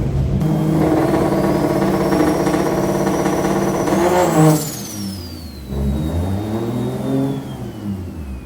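A 1JZ turbo engine in a Nissan S13 being revved with rolling antilag, a loud, steady held rev that climbs and then drops, followed by a lower, wavering idle-like drone up close with no talk.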